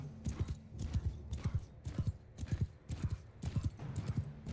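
Horses' hooves clip-clop in Mount & Blade II: Bannerlord, a run of crisp, fairly quiet hoofbeats in an uneven galloping rhythm, with several horses overlapping close by.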